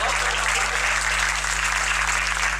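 An audience claps steadily at a Hindi comedy show, a dense even wash of applause that holds throughout, with a constant low electrical hum underneath.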